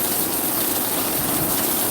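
Heavy rain pouring down outdoors over a garden, a dense, loud, unbroken wash of falling water with no voices.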